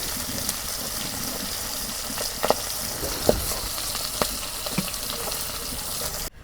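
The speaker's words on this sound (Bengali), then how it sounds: "পাঙ্কাশ মাছের তেল দিয়ে মাছে ভাজা হয়" Pangas fish frying in a little oil, a loud, steady sizzle and crackle with occasional pops and utensil knocks, close up, ending abruptly.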